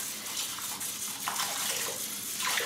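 Water shaken out of a soapy synthetic shaving brush, a close splashing and dripping gush with running water over a sink, brief and fairly loud, with no speech.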